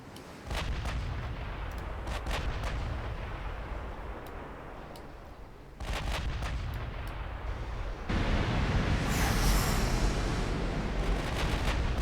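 Naval gunfire strikes a battleship in a US World War II campaign game, a dense, continuous rumbling barrage of shots and impacts that grows louder and heavier toward the end.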